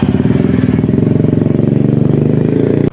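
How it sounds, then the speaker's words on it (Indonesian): An electric drill runs steadily while shaping a carbon fishing rod tip, giving a continuous, close, loud motor whine with a fast rhythmic pulsing for about three seconds before cutting off at the end. "siapapun bisa menggunakan mesin bor ini"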